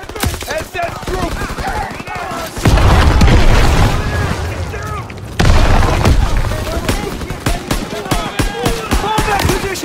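Grenade blast amid a Call of Duty WWII firefight, heavy booms hitting near 2.7 and 5.4 seconds over continuous gunfire and battle clatter, loud and close.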